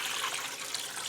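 Water pours steadily from a tap into a bowl for a bread sponge, a continuous close, gentle splashing rush with no voices.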